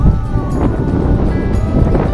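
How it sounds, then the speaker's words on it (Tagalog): Steady, loud wind roaring and buffeting the microphone outdoors in a park in Grande Cache, a continuous low rumble with gusts throughout and no voices. "Lakas ng hangin."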